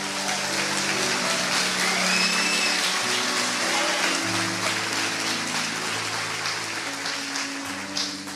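A church congregation applauds in a dense, steady wash of clapping that runs the whole time, with sustained organ-like music tones playing underneath.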